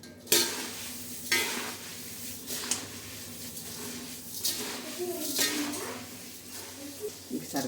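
Salt and powdered sugar being stirred in a pan, with a soft background sizzle and repeated scraping strokes of a utensil against metal recurring every second or so.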